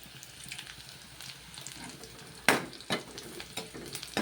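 Fennel seeds dropped into hot oil in a pan for beetroot masala crackle and sizzle softly, with a few sharp sputtering pops and a steady faint frying hiss underneath.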